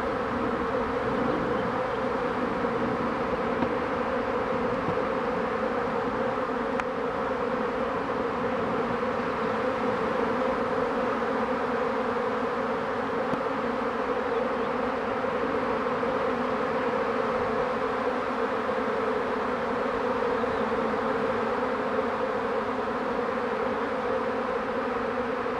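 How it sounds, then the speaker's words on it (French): A swarm of honeybees fills the air with a dense, steady buzzing hum, continuous and close, with no voices over it. "Nous voilà au cœur de l'essaim."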